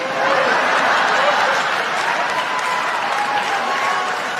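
Stand-up comedy club audience breaking into loud, continuous applause mixed with cheering and scattered laughter, a dense crowd roar filling the whole stretch.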